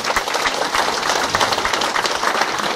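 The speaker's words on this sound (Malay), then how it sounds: "tepukan gemuruh untuk diri anda." Audience at a talk on wealth and happiness applauding, a steady dense wash of clapping held at a fairly even level throughout, loud and close, with no speech over it.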